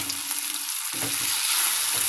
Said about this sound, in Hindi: इसे ढककर कुछ देर और पकने देंगे